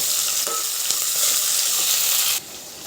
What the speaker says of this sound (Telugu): అది కొంచెం ఫ్రై అయిన తర్వాత పచ్చిమిరపకాయలు, ఉల్లిగడ్డ ఇవి కూడా వేసి ఫ్రై కానివ్వాలి